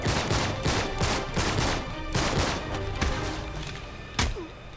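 Rapid automatic gunfire in Uncharted 3 during a caravan fight, loud repeated bursts of close shots with thuds and a final sharp impact.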